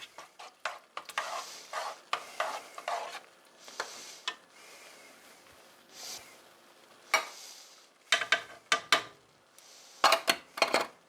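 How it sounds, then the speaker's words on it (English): Ground turkey sizzles and spits in a hot pan while a utensil stirs it in bursts of scraping strokes, with clinks against the metal and quieter sizzling between stirs. "Give this a quick stir."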